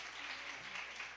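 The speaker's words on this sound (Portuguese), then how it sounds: "Vamos honrar e aplaudir os pastores da manhã." A church congregation at a Sunday worship service applauds its pastors with steady, fairly quiet, continuous clapping.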